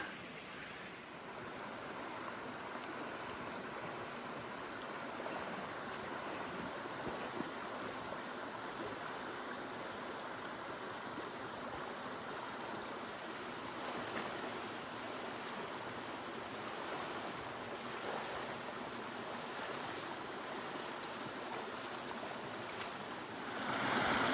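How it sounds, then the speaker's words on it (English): Risbys Creek trickles through dense Tasmanian rainforest, a soft, steady wash of flowing water heard from a short distance, continuous and even with no talking. "Now we've reached where Risbys Creek flows, and you can just see it trickling over there."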